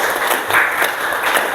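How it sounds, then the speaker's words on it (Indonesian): A classroom audience applauds a student group in a steady, dense burst of clapping, fairly loud and close, lasting about a second and a half with no voices. "Kasih tepuk tangan untuk kelompok 3."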